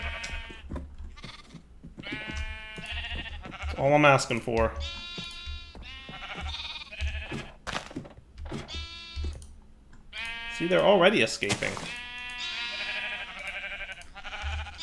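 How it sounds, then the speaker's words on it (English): Sheep in a modded Minecraft-style game bleat repeatedly in short wavering cries, several loud bursts standing out, while a player talks over them almost constantly. "Sheep, can you stay in your pen for like 8 seconds?"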